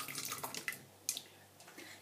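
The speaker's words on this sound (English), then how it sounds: "just pour your lovely little mix into here, nice and gently" A thick homemade mix, topped with cheese, pours gently into a baking dish in a kitchen, giving a soft, wet, splashy flow with a few brief glugs and drips, close and quiet, with no voices.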